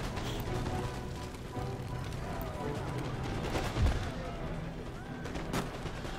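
Musket volleys in an Empire: Total War siege of Athens, a continuous crackling rattle of distant massed gunfire with occasional louder thumps, running under a voice.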